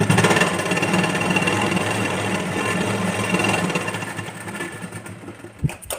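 Sewing machine stitching a fabric strip for a blouse, running as a fast, steady mechanical chatter up close, easing off near the end with a few clicks and bumps, no speech.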